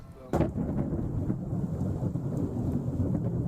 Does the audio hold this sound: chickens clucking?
no